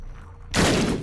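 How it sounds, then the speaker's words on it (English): Bombs going off in The Binding of Isaac: Rebirth, a single loud blast bursting in halfway through after a quieter game backdrop, then ringing on to the end. "Let me waste a couple bombs in here."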